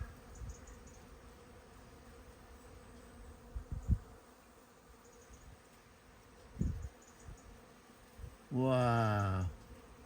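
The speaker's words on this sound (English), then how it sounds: "the bees are all over this ivy. Absolutely buzzing." Honey bees work over flowering ivy outside a house, a faint low hum with a few soft knocks, then one bee buzzes loudly past close by for about a second.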